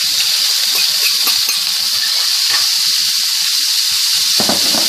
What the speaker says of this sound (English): now what we're going to do, we're going to take our peppers and onions,